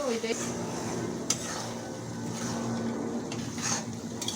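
Dried ribbonfish stir-fried in a pan, a soft steady sizzle with scraping stirs and a couple of sharp utensil clicks, fairly quiet.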